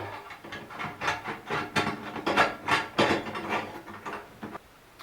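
Rhythmic ratcheting and scraping of a screwdriver driving a bolt into a grab bar, repeated bursts close up, stopping near the end.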